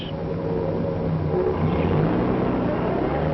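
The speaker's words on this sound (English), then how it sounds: "But now the stoplight is changing to go. He shifts gears." A 1940s city bus engine rumbles steadily and loudly as the vehicle shifts gears and pulls away from a stoplight, a continuous low drone with a faint hint of narration.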